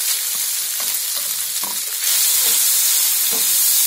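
Soaked soya chunks fry in hot oil, a loud close sizzle broken by repeated scraping strokes as they are stirred, the hiss swelling brighter partway through.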